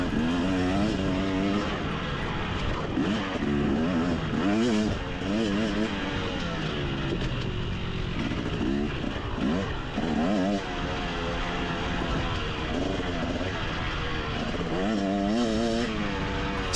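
A 250cc dirt bike racing on a narrow, flowing track, engine revving and shifting with rising and falling pitch throughout, loud and continuous.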